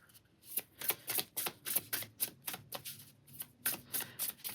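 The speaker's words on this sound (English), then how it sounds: "Let me pull you some oracle cards here." Oracle cards being shuffled by hand in a steady run of quick, crisp riffling flutters, close and quiet, with no other sound.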